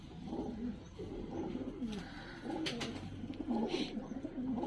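Ordinary pigeons in a home pigeon loft coo in soft, repeated, rolling calls that overlap close by, with faint chirps and light background noise.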